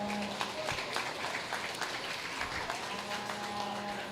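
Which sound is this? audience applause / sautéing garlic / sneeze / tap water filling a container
audience applause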